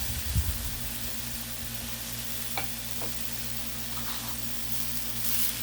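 Boneless pork chops sizzle on a Blackstone griddle with a steady, loud frying hiss throughout, broken by a few faint scrapes and clicks and no voices.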